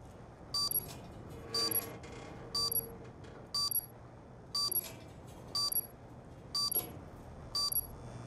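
Repeated electronic beeps from an active bomb in a competitive shooter game, eight short bursts at a steady rhythm about every second, loud over a low murky background.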